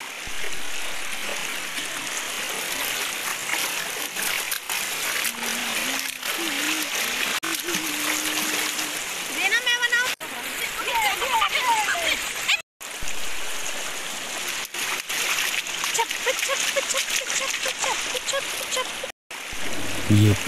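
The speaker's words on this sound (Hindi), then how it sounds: "ये पानी का शोर कितना अच्छा लग रहा है।" River water rushes and splashes steadily at a camping spot, a constant loud wash filling the scene, with brief tonal bursts and a short break partway through.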